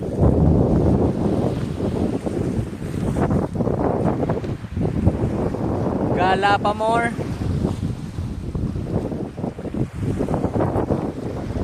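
Strong, blustery wind buffets the microphone by the sea, roaring steadily throughout, with a brief spoken phrase partway through.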